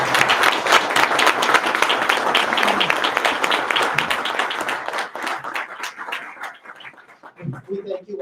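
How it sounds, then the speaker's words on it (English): A room gives a sustained round of applause for the candidates at a city council debate in Pekin, dense clapping from many hands that gradually thins and fades toward the end, with a few voices rising over it. "if we can now give a round of applause to all of our candidates"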